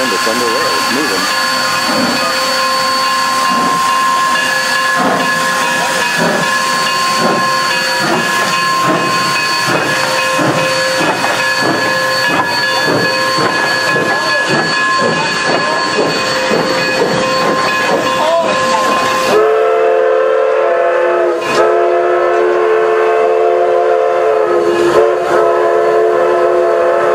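Durango steam train getting underway: a loud, steady hiss of steam with rhythmic chuffing and mechanical clanking, close by, then an abrupt shift to a deeper rumble and whistle-like tone as it moves off.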